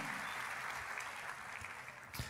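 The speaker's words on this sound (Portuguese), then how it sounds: "Vamos aplaudir essa galera aí, gente, vocês aí." Church conference crowd giving a round of applause, a faint, steady wash of distant clapping that holds evenly throughout with no voices over it.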